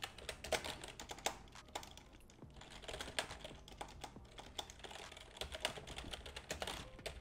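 A computer keyboard being typed on, with quick irregular clicking keystrokes in bursts with short pauses, close but soft, and no voices.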